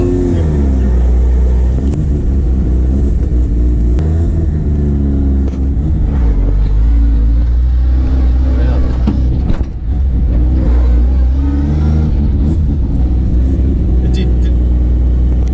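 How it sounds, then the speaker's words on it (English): A Mazda RX-8 rotary engine cranks and catches, then runs with a loud, uneven rumble and revving, with voices talking over it. "The car started."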